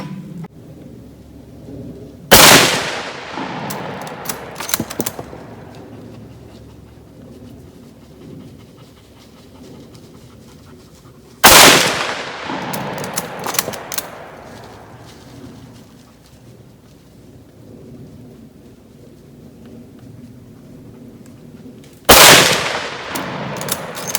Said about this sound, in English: I'm gonna try to shoot the clay on the left first